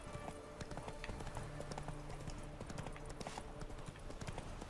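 Horse hooves clip-clop steadily at a brisk riding pace in The Witcher 3, a continuous rhythmic patter close by over a low ambient game background.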